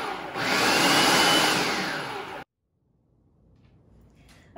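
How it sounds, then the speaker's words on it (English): A blender pureeing roasted red bell peppers with garlic for ajvar, a loud whirring motor roar that winds up, runs for about two seconds and cuts off abruptly, leaving near silence with faint clatter. "then we'll just pulse it a couple more times and then puree it up."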